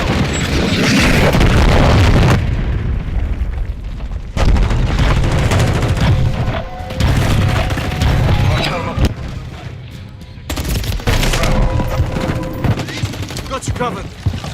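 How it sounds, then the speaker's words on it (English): Cruise missile strike in Call of Duty Modern Warfare 3, heavy booming blasts and rumbling explosions mixed with sustained gunfire, loud and dense throughout, with brief quieter breaks. "Cruise missile."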